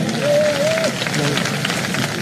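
A rally crowd welcoming Assam's chief minister breaks into steady clapping, a dense continuous patter of applause at moderate distance, with a brief whistle-like tone early on.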